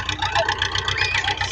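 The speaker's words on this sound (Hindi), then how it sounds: "देखो अबू आ गया ट्रैक्टर काट के यो ट्रैक्टर है" A tractor engine runs close by with a steady, throbbing low rumble and a busy mid-range clatter throughout, loud and continuous across the short stretch.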